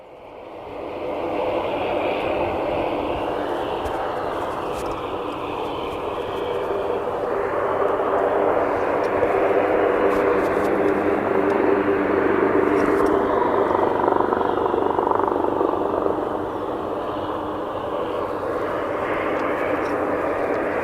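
A fixed-wing airplane arriving at Aberdeen Airport gives a steady, fairly loud engine roar with a broad rushing tone that swells gradually and holds for about twenty seconds, with a voice speaking faintly beneath it.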